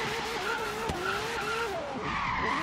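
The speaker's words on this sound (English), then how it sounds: "Definitely sounds like a Ferrari." A LaFerrari in Forza Horizon 3, lowered for track use, skids through a spin, its engine holding a steady high whine while the tires squeal continuously across the run.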